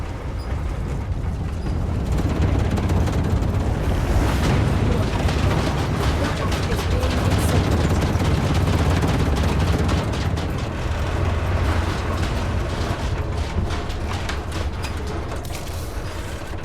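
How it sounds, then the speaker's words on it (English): A volcano wave erupts in the video game StarRupture, a dense, continuous rumbling roar with crackling bursts and heavy low-end blasts that stays loud throughout. "And here comes the volcano wave."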